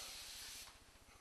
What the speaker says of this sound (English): Febreze body spray.